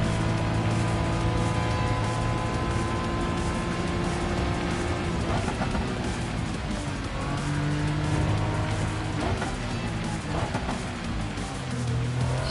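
A TVR road car engine in Gran Turismo 7's Le Mans road car challenge, droning steadily and loud throughout with gear shifts and rising and falling revs, a faint hiss of rain underneath.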